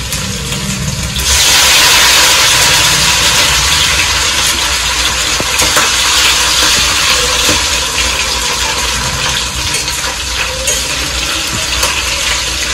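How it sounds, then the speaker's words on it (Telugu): Chicken pieces frying in hot oil for pickle, a loud, steady, dense sizzle that surges up after a second and keeps hissing evenly throughout, close and alone. "దీన్ని అయితే ఇట్లా ఫ్రై చేసుకోవాలి"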